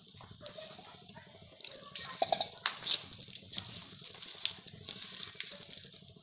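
Water is added little by little to a mix of rice flour and wheat flour for a batter, with faint trickles, soft splashes and light clinks of a bowl or utensil in a quiet kitchen.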